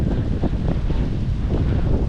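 Strong wind roars at sea during storm fishing off Mumbai, India, a loud, continuous gusting rush buffeting the microphone, with the wash of waves and boat noise underneath and no voices.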